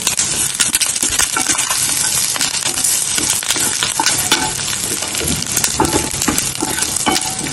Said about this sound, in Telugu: ఇప్పుడు కరివేపాకు వేస్తున్నానండి.